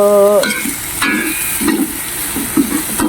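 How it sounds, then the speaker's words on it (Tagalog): Ring-cut onions stirred and fried in a pan, a loud continuous sizzle broken by repeated spatula scrapes and clatter, with a short tonal whine at the start; no one speaks. "Ring onions, guys. So, haluin natin siya hanggang sa maluto."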